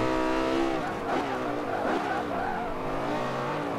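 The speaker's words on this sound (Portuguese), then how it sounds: "Esse carro desgarra legal, ele escapa bacana nas curvas." Lexus LFA race car in Forza Motorsport 5 skidding through a corner, loud tires squealing in wavering pitch over a revving engine, with someone talking over it.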